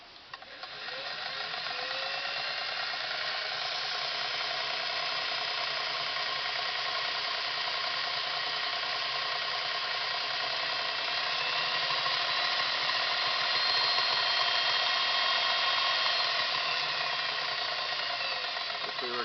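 A Singer Model 404 sewing machine sews continuously with a steady mechanical whir and light rattle, ramping up over the first two seconds and then holding at a constant pace.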